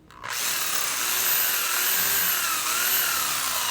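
A power drill runs steadily as it drives a black screw into a fluted panel, starting after a brief moment of quiet and then holding a loud, continuous whine close by.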